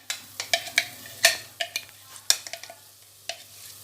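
Spice paste for rawon sautéing in a pan, with irregular sharp spatula scrapes and taps over a faint, quiet sizzle, close by and alone.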